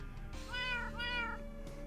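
Two drawn-out cat meows from a video game, rising and falling in pitch against a steady game hum, with no talking over them.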